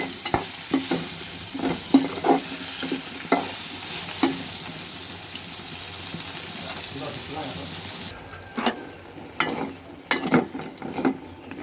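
Malabar spinach cooking in a pan, stirred with steady scraping strokes over a constant frying hiss, close and moderately loud, with a busier clatter of stirring near the end.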